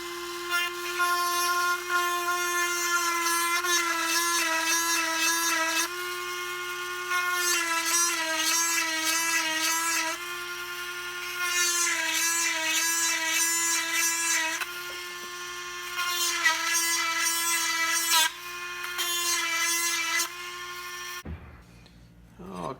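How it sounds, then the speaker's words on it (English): A Princess Auto 12-volt chainsaw chain sharpener grinds a chain in a shop, giving a loud steady whine broken into repeated passes of several seconds each, then cutting off near the end. "I'm using the Princess Auto 12 volt chain sharpener. We're just gonna touch it up quick."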